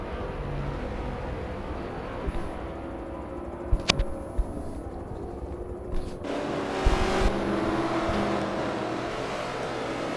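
Race cars circling the Daytona oval in a NASCAR video game, a steady engine drone with a few sharp clicks and a brief rise as the pack speeds up.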